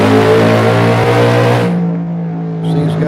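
A Carroll Shelby-tuned car engine revving hard, a loud close droning roar that drops to a lower idle partway through, with no talking.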